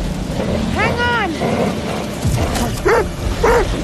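A dog in The Devil in Me gives short barks and yips with a whimpering rise, close by, over a noisy game scene with some voice in the background.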